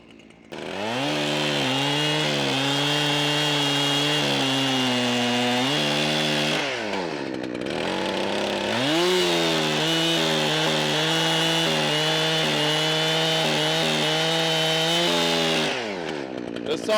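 Chainsaw in need of a carburetor adjustment cutting firewood, a loud, close, sustained engine whine with a brief dip and rev in the middle, running alone throughout.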